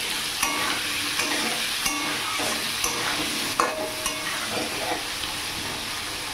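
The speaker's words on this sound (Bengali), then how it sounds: "তো আমি সবার প্রথমে আলুটা ভেজে নেব।" Potato pieces tossed with salt and turmeric fry in hot oil over a high gas flame, giving a steady, loud, close sizzle with occasional soft stirring knocks.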